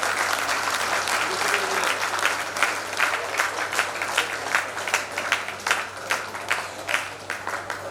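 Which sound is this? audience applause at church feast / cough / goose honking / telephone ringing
audience applause at church feast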